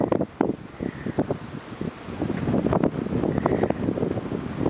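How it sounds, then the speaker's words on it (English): Blizzard wind roaring and buffeting close to the microphone in a steady, gusty rush, with no one speaking. "The wind's coming from behind me, so I hate to turn around."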